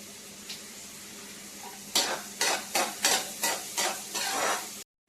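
Lightly salted onions fry in oil in a pan, a quiet sizzle at first, then five or six loud rhythmic spatula strokes stir them with surges of crackling before a sudden stop.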